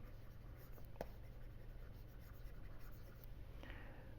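Chalk or marker scratches on a board during an engineering lecture on gear cutting, faint strokes and a sharp tap heard against a steady room hum, with no talking.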